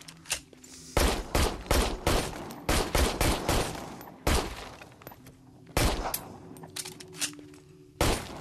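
Gunfire from the VR game Immortal Legacy, played on a Pico 4 headset, comes as repeated loud bursts of sharp shots. The shots fall in clustered rapid strings with short gaps between them, and no speech is heard.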